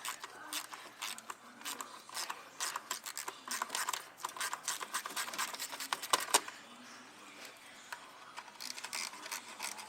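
A ratchet working rusted 10mm fan bolts on a 1997 Honda Civic, with rapid clicking bursts that start and stop close up, one sharper knock partway through.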